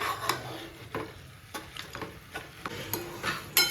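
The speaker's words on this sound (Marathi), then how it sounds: "आता त्यात टाकते मी मुंडी." Goat head pieces go into a spice paste in a pan on a village stove, giving a soft sizzle broken by repeated scraping and clinking stirs at an uneven rhythm.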